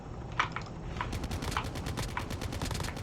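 Video game gunfire rattles in rapid automatic bursts, fairly loud and continuous, mixed with clicky keyboard-like tapping throughout.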